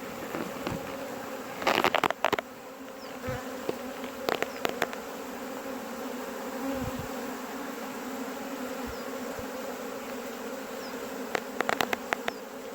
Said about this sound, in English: So slowly the bees march into the new hive